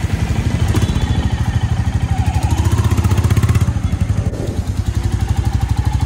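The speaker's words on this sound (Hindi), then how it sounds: "अभी पहले मैं इसकी एक छोटी सी टेस्ट राइड लेके देखता हूँ" Royal Enfield Classic 350 single-cylinder motorcycle engine on a test ride, a loud, close, steady thumping beat that rises briefly in revs and then settles, with some mechanical clatter and no talk.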